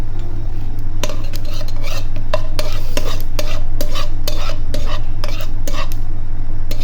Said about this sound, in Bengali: যে ডিম ভাজছি তেলের ভিতরে দিয়ে দিলাম আমি